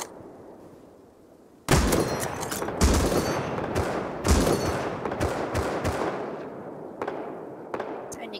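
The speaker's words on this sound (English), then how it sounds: "I'll shoot the bear." Gunfire aimed at a bear in the survival video game Rust: a burst of sharp, loud shots followed by several more spaced reports over the next few seconds, with players' voices in between.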